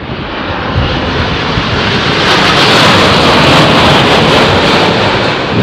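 Jet airliner engines of Bahrain Royal Flight 744 landing in a stormy crosswind, a loud, steady, broadband roar that builds and holds throughout with gusting wind noise and no talk.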